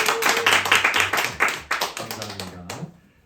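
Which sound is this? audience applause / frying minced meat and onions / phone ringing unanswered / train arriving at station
audience applause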